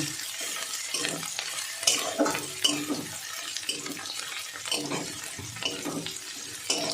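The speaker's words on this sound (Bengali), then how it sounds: "এবার থেতো করে রসুনটা দিয়ে দেবো। এবার একটু এটা কাঁচা গন্ধ থাকা পর্যন্ত ভেজে নেব।" Crushed garlic frying with green chillies in a pan, a soft steady sizzle punctuated by scraping stirs of a spatula, close but quiet, with no talking.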